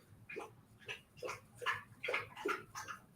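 A dog whimpers and whines close up, a short run of about seven thin, rising high-pitched whines in quick succession over faint background noise. No speech.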